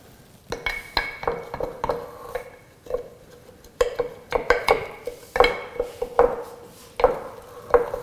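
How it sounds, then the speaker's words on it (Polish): A wooden spoon knocks and scrapes inside a scalded glass jar while mixing a rye sourdough starter of flour and warm water, giving a steady run of close, fairly loud clinks and taps over about eight seconds. "i wymieszaj drewnianą łyżką."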